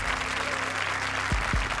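Studio audience applause on the comedy show Comedy Circus, moderate continuous clapping at a distance with a low hum beneath and a couple of thumps near the end.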